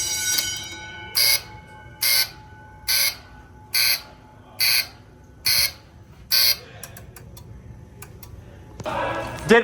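A school fire alarm bell from a new addressable system at an elementary school rings in seven short even bursts about every 0.7 seconds, loud and close in a quiet room, followed by a brief rising noise.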